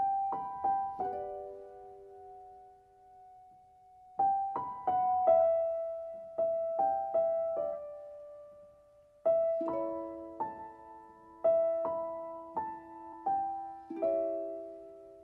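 Soft, sad piano-like theme from a movie, single melodic notes and gentle chords struck in phrases with short pauses between, moderately quiet and alone without voices.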